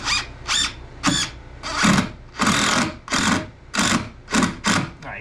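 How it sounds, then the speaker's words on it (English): A cordless drill drives screws into a cabin floor in a series of about nine short bursts, each whirring loudly for half a second or so with brief pauses between them and no talk. "put your hand on the back of the drill like I've been showing you, both hands"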